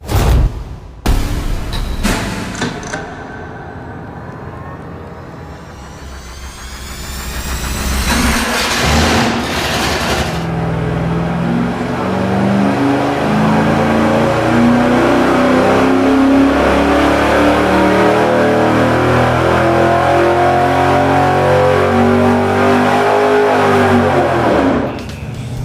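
A Ford 408 stroker engine on a dyno fires up with loud cracks and blips, then settles into a long, sustained, climbing roar of revs that holds to the end.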